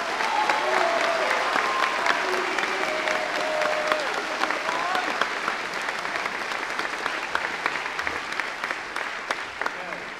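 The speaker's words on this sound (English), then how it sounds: "Let's give them a round of applause." A school hall audience at a house music competition gives the musicians a long, full round of applause, a thick continuous clatter of clapping mixed with scattered voices and cheers.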